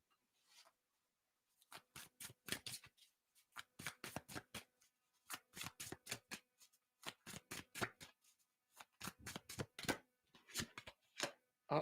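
Tarot cards being shuffled by hand in repeated short bursts of crisp riffling and slapping, close and fairly quiet, with brief pauses between each bout.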